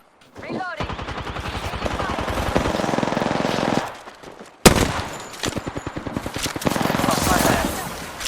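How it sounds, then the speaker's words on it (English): Enemy gunfire in Apex Legends gameplay, long rapid bursts of automatic fire close and loud, broken by a brief pause and a sharp crack before shooting resumes. "The enemies are shooting at me."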